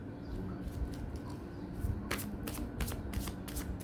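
Oracle cards are shuffled for a reading: a rapid run of crisp riffling flutters and soft card slaps, close and quiet, with no talking.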